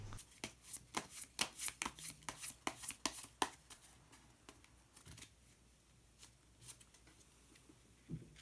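Crisp, quick riffling of a shuffled color card deck comes close but quietly, a dense run of snaps followed by a few scattered slides and taps as a single card is drawn.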